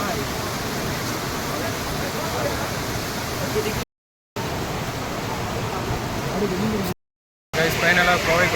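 Kovai Kutralam waterfall roars as a dense, continuous rush of falling water, loud and close, broken by two short silent gaps, with a voice briefly heard near the end.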